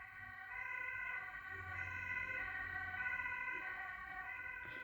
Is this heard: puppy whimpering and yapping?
no